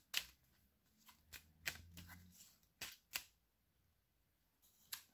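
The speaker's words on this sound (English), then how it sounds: "shuffle the rest of your mission deck." A deck of Star Wars Rebellion board game mission cards being shuffled by hand, with a series of quick, close riffling bursts and pauses between them, fairly quiet.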